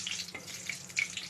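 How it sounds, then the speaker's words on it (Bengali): Dried chillies, bay leaves and cumin seeds crackling in hot oil for tempering, a brief bright hiss with small pops rising near the end, close up and without voices. "আমি শুকনো লঙ্কা, তারপরে তেজপাতা, তারপরে জিরা ফোড়ন দিয়ে নিব"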